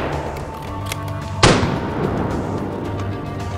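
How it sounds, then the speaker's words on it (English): A single sharp rifle shot cracks out during a wild boar hunt, loud and abrupt, then rings away over steady outdoor background noise. "He turns and takes another shot at a running wild boar."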